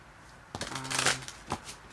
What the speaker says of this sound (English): I'm going to shuffle some more, just a little bit more.